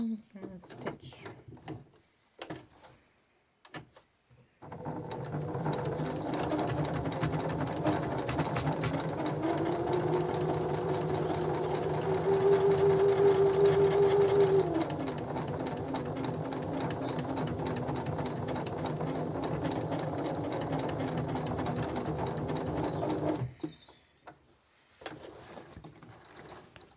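A sewing machine stitching a custom painted banner runs in one long, steady, close whir for about twenty seconds, with brief handling sounds before and after.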